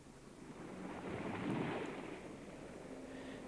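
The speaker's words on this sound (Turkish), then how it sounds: "Kıyıyı devamlı bir şekilde döven dalgalar toprak ve kayaların şeklini değiştirip" Sea waves pound a shore of rock and earth in a steady, broad roar of surf that swells to a peak midway and then eases slightly, heard alone with no voices.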